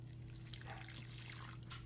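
Water poured into a pot for cooking a packaged Thanksgiving side, a faint close splashing trickle over a steady low electrical hum, with no talk.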